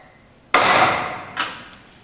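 A steel stamp is struck into a welding test plate to mark initials, giving one sharp metallic hammer strike with a short ring, then a second, softer tap about a second later, close and otherwise quiet.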